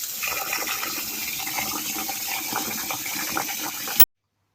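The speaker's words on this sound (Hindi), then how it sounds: "सबसे पहले हम चावलों को वॉश कर लेंगे और ठंडे पानी से हमने वॉश करना है।" Running tap water pours steadily over soaked rice in cold water, a continuous close splashing rush that lasts about four seconds, then cuts off abruptly into silence.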